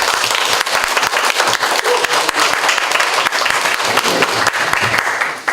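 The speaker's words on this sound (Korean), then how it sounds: "권영길 선생님 박수로 모시겠습니다." A workshop audience gives loud, close applause to welcome a speaker to a lecture. Many distinct sharp claps ring out for several seconds, then the applause tapers off at the very end with no voices.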